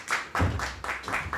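A comedy club audience claps at a live stand-up show, a steady close patter of many hands forming a sustained round of applause with rhythmic bursts.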